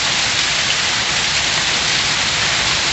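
Heavy rain pours steadily over the sertão of Pernambuco, a dense, even hiss of water with no breaks or voices across the whole stretch.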